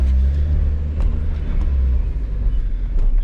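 Interior rumble of a V6-swapped Mazda Miata with a noisy, worn clutch, a loud, close low engine drone that holds steady through the whole run, with faint rattles and no talk.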